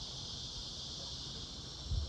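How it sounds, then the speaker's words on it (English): Cicadas drone in a steady, unbroken high buzz that stays even throughout, fairly faint and distant, with a soft low rumble underneath and no voices. "Those cicadas are going at it."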